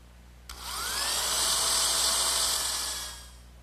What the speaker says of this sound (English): slip the saddle pieces in and once again pre-drill some holes